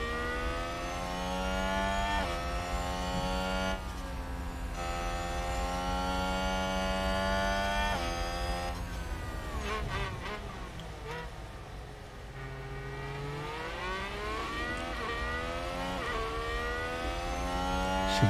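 Formula 1 cars racing in the F1 Manager 2022 video game, a steady layered engine whine with rising and falling pitch sweeps as cars accelerate, continuous and fairly loud without talk.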